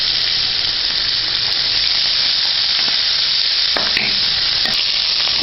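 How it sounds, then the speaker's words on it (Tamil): Sliced small onions sizzle steadily in hot oil in a pan, a continuous bright frying hiss with occasional soft stirring clicks and no talking. "நீளமாக சின்ன வெங்காயத்தை அதையும் போட்டுக்கிறோம். போட்டு நல்லா வதக்கணும்."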